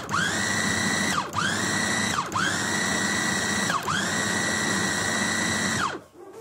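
A food chopper grinds beef and chicken for meatballs with a loud, steady, high-pitched motor whine, close by, that dips briefly three times and then winds down and stops near the end.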